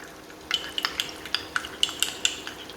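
Battered tofu frying on a small induction cooker set to 180 degrees, with soft sizzling and a series of sharp clinking stirs and utensil taps against the pan, close and fairly quiet.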